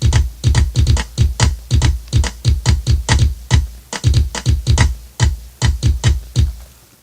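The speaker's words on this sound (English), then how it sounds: "You can put on the metronome and hear what it sounds like with that." A steady pattern of short, punchy programmed drum hits in Guitar Pro plays in a repeating rhythm, with a metronome tick marking the pulse alongside the drum beats.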